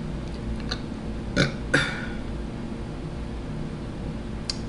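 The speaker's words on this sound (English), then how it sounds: "Everybody else that don't like burping." Two short, close eructations about a third of a second apart at a mukbang table, each rising sharply out of low room noise and quickly fading, with no talking.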